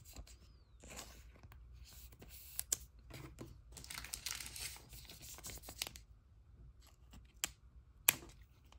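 Scissors cutting into a plastic sleeve holding a thick football trading card, a series of faint close snips and crinkly plastic handling, sharp clicks scattered throughout, quiet and without talking.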